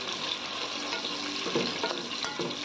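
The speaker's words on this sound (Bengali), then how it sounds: "অন্য একটি পাত্রে পরিমাণ মতো সয়াবিন তেল দিয়ে তাতে আমি দিয়ে দিয়েছি আস্ত জিরা ও আস্ত গরম মশলা" Whole cumin seeds and whole garam masala spices fry in hot soybean oil in a pan, giving a steady close sizzle with a few faint stirring scrapes and no talking.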